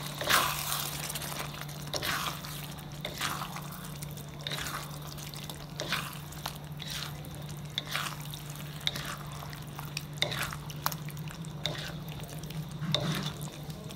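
Onions being stirred in an oiled pan for tofu sambal, with repeated scraping strokes of a spoon at a steady rhythm over a low continuous hum, quiet and close.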